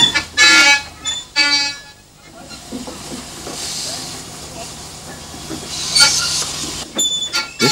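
Babcock and Wilcox steam tank locomotive on a 116-kilometre Spanish narrow gauge line, loud hissing steam bursts in the opening seconds, then a rumbling working engine with scattered clanks and another strong hiss near the end.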